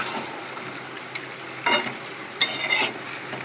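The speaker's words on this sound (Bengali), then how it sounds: "এবার আলুটা দিয়ে ঢেকে দেবো, একটু নাড়িয়ে দিয়ে" Meat and potatoes are stirred in a cooking pot, giving a quiet background sizzle broken by a few short bursts of scraping and stirring close by. No voices are heard.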